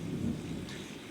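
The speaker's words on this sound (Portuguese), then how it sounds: "Ainda continua chovendo, e muito." Heavy rain pours down with a low rumble of thunder, a dense, continuous wash of noise heard alone for a brief moment.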